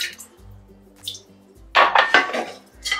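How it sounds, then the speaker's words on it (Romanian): A metal cooking pot is handled in a home kitchen while bread with potatoes is prepared, giving a few close, bright clanks and scrapes, with a louder cluster of metallic knocks near the end and no talk. "am pregătit aici cratița"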